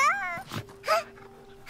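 A dog in the video game Last Day of June lets out several short, high, whining whimpers and yips, faint and close, separated by brief pauses.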